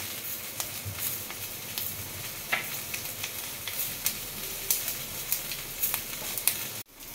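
Fennel seeds sizzle in hot oil for dahi baingan with a dense, steady crackle, while close stirring adds scattered light clicks until the sound cuts off abruptly.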